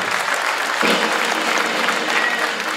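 Concert audience at a Nastola rautalanka show applauds a band member, a full, even round of clapping that holds steady throughout without speech.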